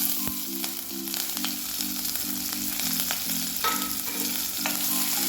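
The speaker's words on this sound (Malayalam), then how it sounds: "ഇനി നമുക്ക് ഇഞ്ചിയും പച്ചമുളക് ഇട്ട് കൊടുക്കാം." Ginger and green chillies hit hot oil for sabudana upma, giving a loud, continuous sizzle with faint stirring ticks throughout and no voices.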